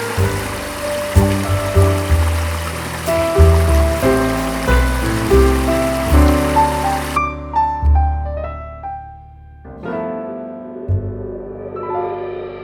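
A garden waterfall and stream water feature, steady rushing and splashing water with a gurgling, trickling texture close by, running continuously with no talk.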